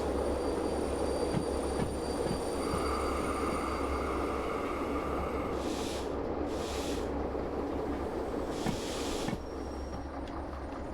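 A train running on rails in the Derail Valley simulator game, a steady rumbling roll with faint rail squeals and a few brief hissing bursts, continuous and fairly loud, with no voices.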